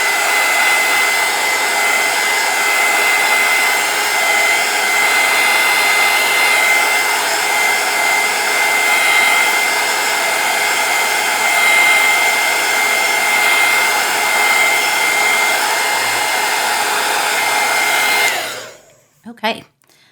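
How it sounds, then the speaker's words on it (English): A small handheld hot air gun, used while painting rocks, blows with a loud, steady whooshing roar close to the microphone for about eighteen seconds, then cuts off abruptly. Nothing else is heard over it. "you do not have one of these little hot air guns, I highly recommend you get one"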